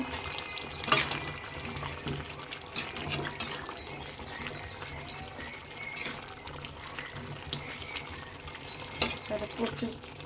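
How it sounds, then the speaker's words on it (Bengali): Taro (mankachu) and chicken are sautéed in a pan, with a steady moist sizzle and frequent scraping stirs of a utensil, close and fairly loud, with occasional clanks against the pan. "এই যে কচুটা ভালো করে কষিয়ে নিলাম"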